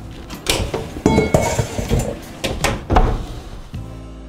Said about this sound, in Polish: I do piekarnika wkładam metalową miskę